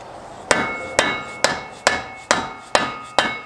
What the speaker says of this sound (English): give the center spline a little bit of a love tap with my dead blow hammer